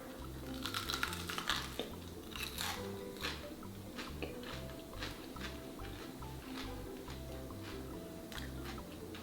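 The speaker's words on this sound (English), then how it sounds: "every bite brings you this extra crunchiness" Crisp, close crunching from bites into crispy fried Vietnamese spring rolls, with repeated crackly bursts over several seconds and a steady low background hum.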